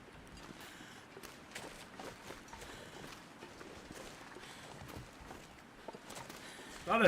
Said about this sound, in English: Thought I heard some footsteps over there.